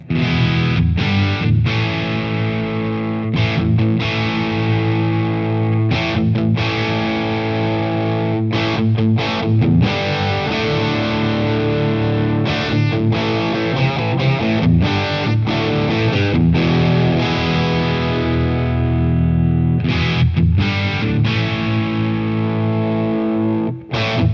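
A heavily distorted electric guitar through an MXR Power 50 pedal plays chords and riffs with a hollow, scooped midrange, loud and continuous with brief gaps between phrases.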